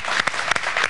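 Studio audience applauding during a live tech talk show, a short burst of clapping at moderate level with a few sharper claps standing out.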